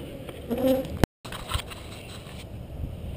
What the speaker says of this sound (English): Let's go ahead and suck up the bees